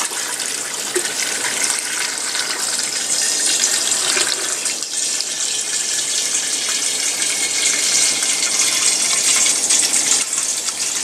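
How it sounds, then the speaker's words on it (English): Cold water runs from a tap into a container in a laundry sink, a loud steady gushing rush that holds for the whole stretch, close up with no voices. "So what I do is I throw just some cold water on."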